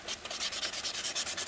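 Sandpaper rubbed back and forth over rough wood in steady rapid strokes, about ten even scratchy passes, close but soft with no speech.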